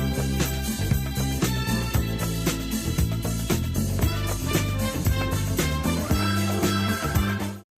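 A recording of the tune plays back as steady, rhythmic, full-band music at moderate volume, then cuts off abruptly.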